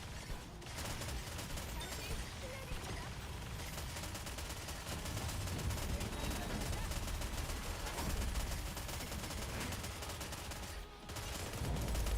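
Dense, continuous gunfire from the video game Goddess of Victory: Nikke during a solo raid, with rapid automatic bursts blending into a loud, unbroken barrage from start to finish.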